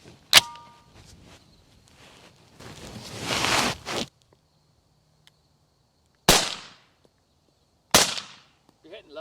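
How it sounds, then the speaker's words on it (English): Rifle firing M855 penetrator rounds at an armor panel outdoors: several sharp, loud cracks spaced a few seconds apart, with a rustling, handling noise between the early shots. "Now we're going to use M855 penetrator rounds."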